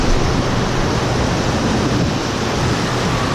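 Surf breaking along an Atlantic beach at Jacksonville, Florida, a loud, continuous wash of white noise with no gaps, heard up close from knee-deep water.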